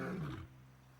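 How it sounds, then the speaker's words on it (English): A lion in Kenya gives a single deep roar, loud and close, sliding downward and fading out within a second. "And that is a roar of a lion,"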